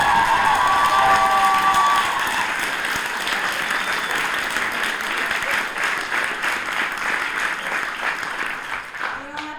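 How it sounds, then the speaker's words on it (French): A theatre audience applauds the actors at the end of a play, a thick, continuous wave of clapping mixed with cheers and a few high children's shouts, starting loudest and settling into steady applause. "on n'a pas tout à fait fini avec les applaudissements"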